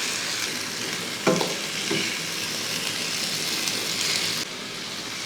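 Fish frying in hot oil in a pan, a steady close sizzle and crackle throughout with brief louder spatters as pieces shift, no voices.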